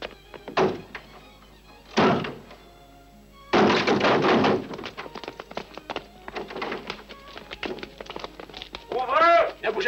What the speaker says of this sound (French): Enfoncez la porte!